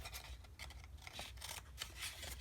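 Scissors snip through paper card while an angled cut is made for a paper craft treat basket, with several short close crisp rasping cuts in a quick run and no talk.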